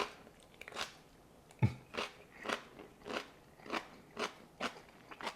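Steady, rhythmic crunching of crisp fermented bok choy being chewed up close, about two bites per second, quiet and with no talking.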